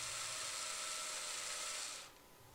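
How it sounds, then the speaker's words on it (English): A power drill bores holes through a container using pre-drilled pilot holes. The motor gives a steady close whine that cuts off after about two seconds, leaving a faint hum. "these holes go a lot faster because I already drilled the pilot holes"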